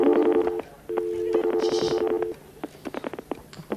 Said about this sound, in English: just gonna make a quick phone call